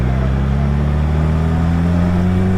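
A heavy motorbike accelerating along a highway, its engine droning loudly and steadily with rising harmonic tones as it speeds up, with wind and road noise and a faint voice underneath.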